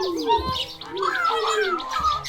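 Budgerigars in a Minecraft mod chirping and warbling in quick bright bursts, several overlapping tweets close up, with no speech.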